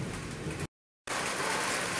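Steady rain falling in Conselheiro Lafaiete, Minas Gerais, Brazil, during a September storm, a dense hiss of drops on surfaces that cuts out briefly in the middle and then resumes.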